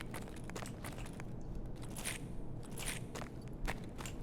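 Footsteps in a video game, a quiet, continuous run of soft crunching steps over a constant low background, with no voices.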